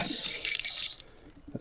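A campground water tap at Lamanche Provincial Park bursts on for dish washing, giving a brief, fairly loud hissing gush of water that tapers off within about a second.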